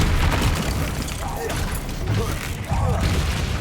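A Confringo fire spell from Hogwarts Legacy goes off in a deep, rumbling blast, with continuous booming and crackling game effects filling the few seconds and no talking.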